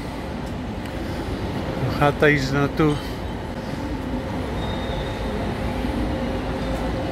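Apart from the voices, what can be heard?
regional train at Hauptbahnhof station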